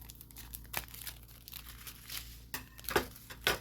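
Scissors cutting into a crinkly plastic blister package of rock-painting supplies, a few close, quiet snips and crackles with rustling in between, no talking.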